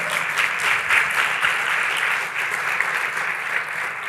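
A church congregation applauds steadily throughout, a dense, sustained clapping that stays at an even level from start to finish with no talk over it.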